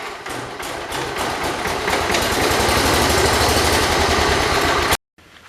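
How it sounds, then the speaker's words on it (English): A 1985 John Deere 210 lawn tractor engine running loud and close, a rapid steady mechanical chugging that builds slightly in intensity before cutting off abruptly near the end. "I got the engine running and it ran fairly decent."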